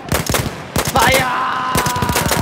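Loud bursts of automatic gunfire in Battlefield 1, with a rapid string of close shots, a brief pause, then a steady roar and more rapid shots, with a faint tonal game sound running underneath.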